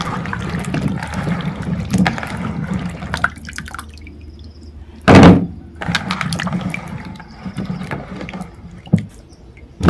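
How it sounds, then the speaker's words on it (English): Potatoes are rinsed under running water into a bowl: continuous splashing and trickling with a loud gushing burst midway and another near the end, close and fairly loud, no voices. "I'll now rinse my potatoes as I add them to a bowl here."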